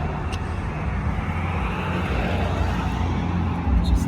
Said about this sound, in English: Sorry about the traffic behind me.